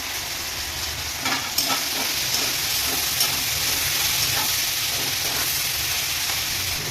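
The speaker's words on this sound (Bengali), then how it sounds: "এই সময় একটু তিল দেবো সাদা তিল এটা একটু ফ্রাই হবে" White sesame seeds fry in a pan with peppers and green capsicum, a loud continuous sizzle broken by occasional scraping stirs.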